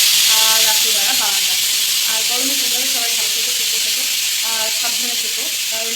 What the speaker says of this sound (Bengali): কুকারে একটু আলু সেদ্ধ করছি